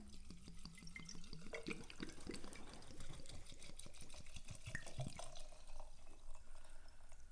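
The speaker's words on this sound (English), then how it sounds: "I'm just going to cover all of that with some apple cider vinegar" Apple cider vinegar poured over deep chicken litter in a container, a close, steady liquid splashing and trickling with a few drips, running alone without talk.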